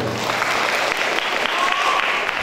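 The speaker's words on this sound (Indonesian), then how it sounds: "Tepuk tangan untuk Mas Ansori." A steady burst of applause from a crowd, dense clapping at a constant level throughout, close and loud.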